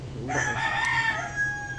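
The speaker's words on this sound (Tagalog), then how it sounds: "Meron talagang tilaok." A rooster crows once at a beach resort in Mabini, Batangas, a loud drawn-out call close by that trails off, over a low steady hum.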